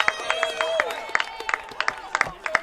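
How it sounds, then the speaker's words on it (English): Crowd cheers and claps at a women's 5000 m track race as Holly Reese wins at an evening twilight meet, bursts of clapping and shouts rising over steady background noise, with some voices heard. "Cheers from the crowd."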